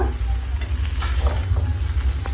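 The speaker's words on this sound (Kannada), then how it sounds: "ಶಾವಿಗೆನ ಈಗ ಇದಕ್ಕೆ ಸೇರಿಸ್ಕೊತಾ ಇದ್ದೀನಿ ಒಂದು ಐದು ನಿಮಿಷ ಫ್ರೈ ಮಾಡ್ಕೊಂಡ್ರೆ ಸಾಕು" Vermicelli frying in a pan for upma, a loud close sizzle with low rumbling underneath and scattered stirring scrapes across the whole stretch.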